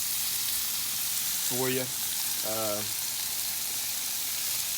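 Bacon frying low and slow on a Blackstone griddle gives a steady, bright sizzle throughout, while a voice briefly speaks two short phrases in the middle.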